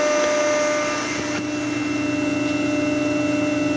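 A Series 3000 angle roll machine runs under automatic positioning, giving a steady mechanical hum with a faint whine and low rumble that continue throughout.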